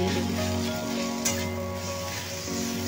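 Onions sizzle steadily in a hot pan with a continuous frying hiss and a brief scrape of stirring partway through.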